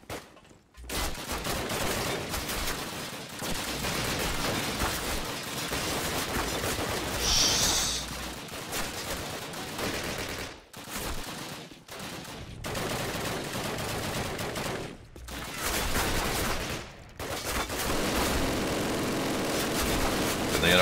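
Sustained automatic gunfire in Call of Duty, a World War-style firefight where a soldier mans a mounted machine gun, with rapid bursts rattling continuously and brief gaps between volleys amid battle din.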